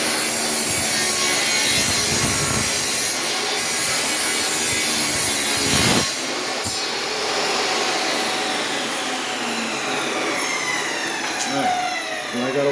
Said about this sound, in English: I'm going to go ahead and rip a 1 inch strip